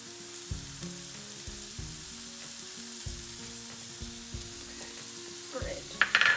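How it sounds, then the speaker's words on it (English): Vegetables and bacon frying in a pan for an egg and vegetable omelette, with a steady soft sizzle and a spatula stirring and scraping in repeated strokes, fairly quiet and close. "I'm gonna mix those around with my spatula"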